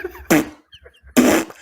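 A person's voice imitates a fart, as heard in an offensive linemen's meeting room: two short, loud, raspy blurts, close up and separated by a brief pause, with no other talk.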